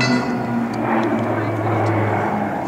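Roulettes display aircraft (Pilatus PC-9 style trainers trailing smoke) drone overhead at an air show at Point Cook, a steady propeller engine hum at moderate distance with a voice talking over it.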